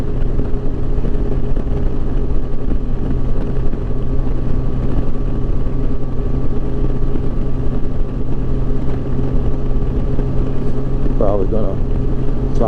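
A 2007 Yamaha FJR 1300 motorcycle engine drones steadily while riding, a loud continuous hum mixed with wind rush that holds at a fairly even pitch throughout.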